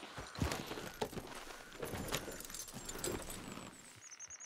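Horse hooves clip-clopping at a steady walking rhythm in Red Dead Redemption 2, close and moderately loud over outdoor ambience, with a faint rattle of tack.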